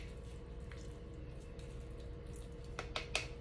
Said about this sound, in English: So I'm getting the water out as much as I can.